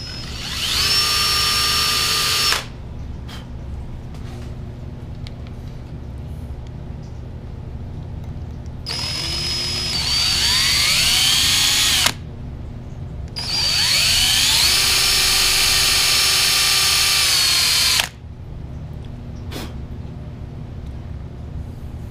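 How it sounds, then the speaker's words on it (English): Power drill boring a hole to fit a screw into a small piece: three bursts of high motor whine that rise in pitch as the drill spins up, each lasting a few seconds and separated by pauses, close and loud over a low background hum. "I think I'm just going to drill a hole and put a screw in it."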